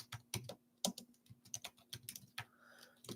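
Someone types on a computer keyboard with a microphone in the way, producing quick, irregular key clicks with short pauses, close and fairly quiet.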